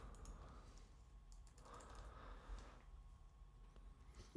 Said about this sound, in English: You fucking keyboard types.